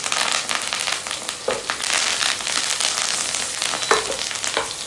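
Whole dried red boriya chillies, green chillies and curry leaves hit hot oil for a tempering, giving a loud, continuous crackling sizzle with occasional stirring scrapes.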